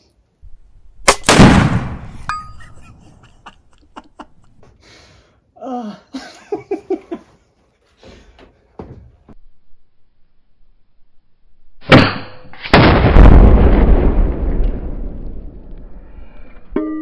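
Firebird 65 exploding targets struck by airgun pellets: a sharp loud crack early on, a few faint clicks and short bursts in between, then a second heavy blast with a long rumbling decay, close to the listener.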